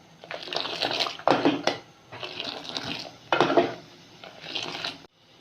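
Tea in a pot being whisked, giving four uneven bursts of splashing, scraping liquid agitation separated by short quieter stretches, close and moderately soft.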